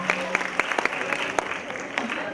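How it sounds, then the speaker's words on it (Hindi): An audience claps at an Islamic quiz contest, a dense patter of hands with a few sharper claps standing out, sustained and fairly close throughout. "खूब जोरदार तालियां।"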